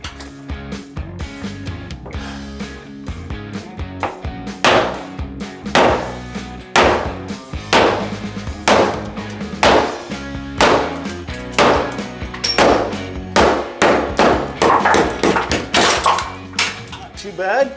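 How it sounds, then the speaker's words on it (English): Hammer smashing newly laid shower tile, a long run of loud, irregular cracking blows with clattering debris between strikes, close by, building to rapid hits toward the end. "we're gonna get our hammer and smash it out of there."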